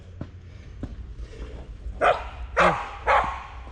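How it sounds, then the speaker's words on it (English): A dog gives three loud, close barks in quick succession, preceded by a few faint thumps and low background rumble. "Could you bark harder?"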